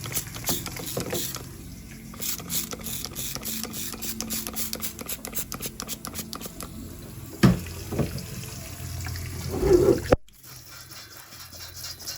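Tap water runs steadily into a cooking pot at a kitchen sink for about ten seconds, with clinks of the pot before the flow stops.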